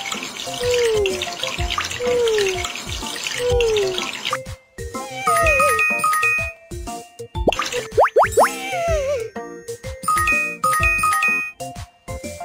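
Water splashes and drips in a children's pet care game as a puppy is showered, mixed with bright cartoonish plops, chimes and sliding tones in a busy, playful sequence.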